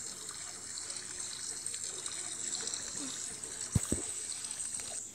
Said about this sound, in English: take a shower.